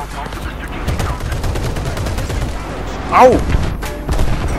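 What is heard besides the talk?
tank gunfire in War Thunder video game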